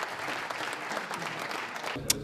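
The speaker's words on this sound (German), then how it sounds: "Die aufmerksamen Zuhörer dankten es ihr mit viel Applaus." An attentive audience at a logistics forum applauds Ellen Lohr, steady sustained clapping heard from within the hall, even and moderately loud, ending with a brief sharp click.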